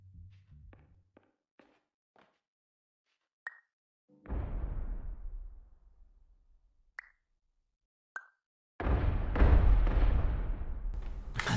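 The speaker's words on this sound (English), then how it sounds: "I think this is the sound of you dropping the room." In the video game Superliminal, a room is dropped and lands with two heavy, booming thuds several seconds apart. Faint clicks and small knocks from the game come in between them.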